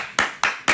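A man claps his hands three times at an even, unhurried pace, each clap sharp, close and loud, with quiet gaps between.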